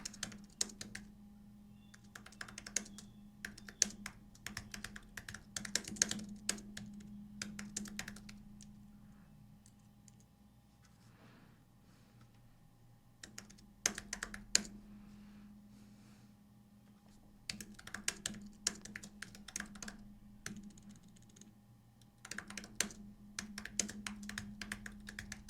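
Someone types code on a computer keyboard in quick clusters of keystrokes broken by short pauses, close and clear with no talking.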